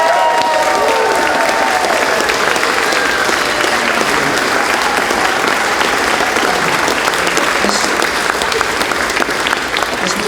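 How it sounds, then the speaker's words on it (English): Loud, dense applause from a crowd at a send-off event for a ship's crew starting a global voyage, sustained for about ten seconds with some cheering and voices mixed in. "Give them a little applause if you want."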